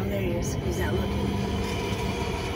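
A Canadian National (CN) freight train rolls past in Green Bay, Wisconsin, making a steady low rumble with faint wheel squeals and clatter and no horn.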